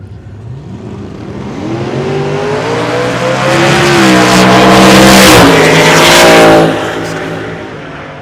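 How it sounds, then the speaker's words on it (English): A Roush F-150 pickup races down a drag strip at a no-prep event at Ozark Raceway Park, its engine revving loud and rising in pitch through a long pull before tailing off. "That is a Roush F-150. It's a very fast pickup."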